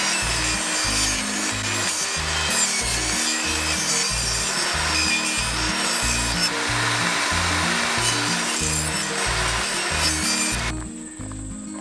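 A table saw rips a 45 degree bevel through a piece of wood for a jalousie window frame on a fibreglass trailer, a steady loud whining cut lasting about eleven seconds before it stops abruptly, with no talk.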